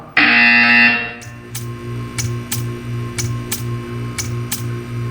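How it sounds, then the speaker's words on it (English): A test-chamber buzzer in the video game Portal 2 blares loudly for about a second, followed by a steady hum and a regular ticking pulse, with no talking. "You will hear a buzzer."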